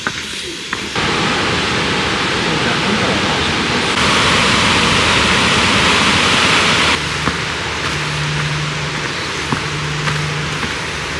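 Sea waves wash beside a coastal path on Bijindo island, a steady, close, broadband rushing surf that continues without pause and shifts slightly in loudness partway through.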